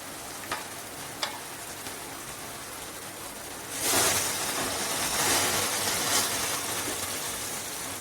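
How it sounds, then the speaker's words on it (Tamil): Ground masala mixed with tamarind is poured over sautéed onion and tomato. A steady close sizzle rises sharply as it hits the hot pan, with a few stirring clinks before it. "நம்ம வெங்காயம் தக்காளியை போட்டு வதக்கிட்டு இருந்தோம்னா இப்ப கரைச்சி வச்ச மசாலா ஊத்தியாச்சு."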